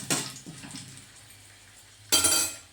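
Leftover idli crumbled into a pan for upma is stirred with a utensil, giving a few close clinks and scrapes against the metal, a brief burst at the start and another near the end with quiet between.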